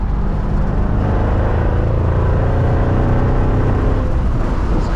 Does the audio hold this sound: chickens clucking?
no